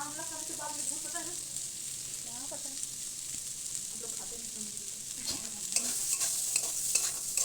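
Amla pickle with spices being stirred in a pan: a continuous sizzle with soft scraping from the spoon and a faint voice in the background, the sizzle growing a little brighter near the end.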